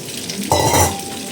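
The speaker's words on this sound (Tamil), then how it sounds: "தண்ணி ஊற்றிக்கலாம்." Water poured into a pan of Kerala-style mango curry, a short splashing gush with sizzling and stirring, close and fairly loud, lasting under a second before settling back to a low simmer.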